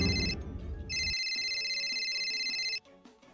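A cellphone ringtone plays a repeating electronic melody, loud and close, after a short burst of other noise, then cuts off abruptly near the end.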